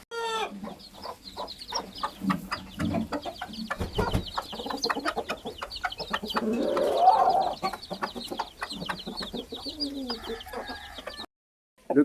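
Heavy farm rooster clucking and calling among other fowl, moderately close, with scattered clicks and rustles and a brief pause near the end.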